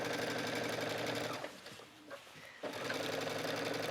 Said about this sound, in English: So just go ahead and stitch.